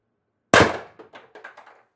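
An air gun fires a steel ball bearing: one sharp, loud crack, followed by a short run of fading metallic rattles and clinks as the ball strikes and bounces.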